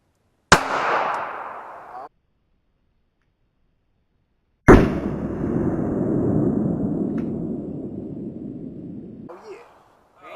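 Two sharp, loud pistol reports crack out a few seconds apart, each followed by a long decaying outdoor echo as rounds are fired into a DIY ballistic gel block.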